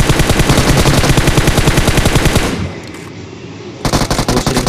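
Rapid automatic gunfire in a shooting video game rattles out in a long, loud, evenly spaced burst, drops to a quieter lull, then a fresh burst starts up close.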